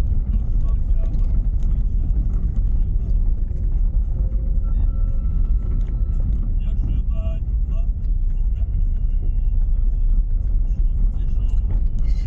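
Heavy traffic rolls past near an adult men's penal colony in Shilkinskaya, a loud, constant low rumble of many vehicles, with someone talking over it.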